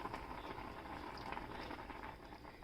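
A pot of cherry and cornstarch mixture boils steadily, giving a continuous bubbling, simmering wash at moderate level with no talk over it.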